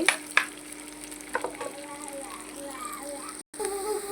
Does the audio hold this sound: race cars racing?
no